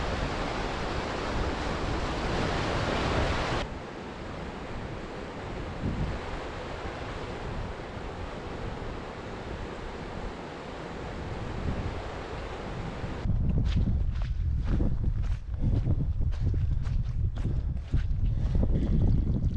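A snow-fed mountain creek runs across a trail, a loud, steady broadband rush of flowing water close by, with gusts of wind buffeting the microphone.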